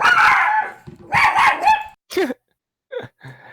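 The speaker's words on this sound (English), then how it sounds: "some dogs that can be loud if something goes walking by" Dogs barking nearby: a few loud, short barks and yips, then softer whimpering sounds with quiet gaps between them.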